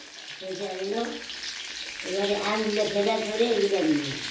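Whole mustard seeds sizzling in hot oil in a kadai, with dried red chillies already tempered, for a village-style raw mango jaggery dish; a steady close frying hiss that grows louder midway, under speech-like harmonic voices.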